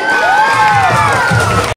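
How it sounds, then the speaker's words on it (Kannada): A school audience at a high school talent-festival prize ceremony cheers loudly and continuously, with rising whoops and children's shouts over a dense crowd roar that cuts off abruptly at the end. "ಇದಕ್ಕೆ ಮತ್ತೊಮ್ಮೆ ಜೋರಾದ ಚಪ್ಪಾಳೆ ಬರಲಿ."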